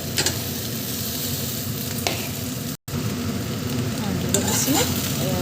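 Diced potatoes with turmeric fry and are stirred in a hot pan for a paneer dish, a constant close sizzle broken by scraping strokes of the spatula and a brief dropout midway.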